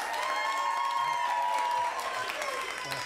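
A studio audience at a holiday comedy showdown claps steadily for a favorite director, a dense, sustained round of applause with a faint tone humming beneath, tapering slightly near the end.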